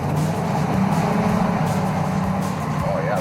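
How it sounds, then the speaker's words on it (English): The Ecto-1 Cadillac car runs with a steady engine drone while driving, holding a fairly even pitch for a few seconds and rising slightly near the end, close and moderately loud. "It's got that beautiful Cadillac motor"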